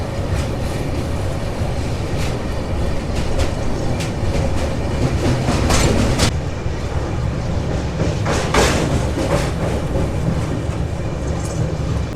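The 12622 Tamil Nadu Express runs on rails out of Vijayawada Junction toward Chennai, heard from inside the coach as a loud, steady rumble with rhythmic clicks and clacks over the track joints, no voices.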